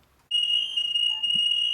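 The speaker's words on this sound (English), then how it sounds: "You can hear an alarm going off," After a brief quiet moment, a shrill, steady electronic alarm tone starts and sounds continuously, loud and piercing.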